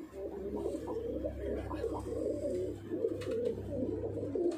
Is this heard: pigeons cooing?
yes